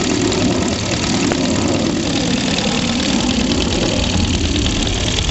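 A small model steam car engine running on compressed air, a steady, loud mechanical chugging and hiss held at an even level throughout, close to the listener with no talking.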